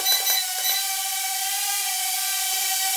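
A JXD 512V nano quadcopter lifts off and hovers, its tiny motors giving a steady, high-pitched whine over airy hiss, with a few brief clicks near the start and the tone holding level throughout.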